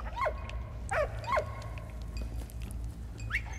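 A dog in a video game barks and yips several times, close, in short rising and falling calls over a steady low game rumble, with a fainter yip near the end.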